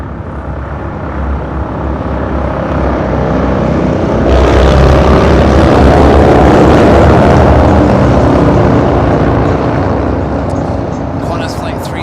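An airliner arriving from Sydney on runway 25 left at LAX roars past, a loud, broad jet rumble that builds to a peak midway and slowly fades, with some voice underneath.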